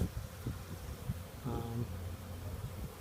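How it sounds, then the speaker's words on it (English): A honey bee swarm in Forest Hill, Maryland, gathering into a collection box, gives a steady close buzz with a few brief louder hums from bees passing near, and a voice speaks faintly over it. "Bees, I think, are going in the box."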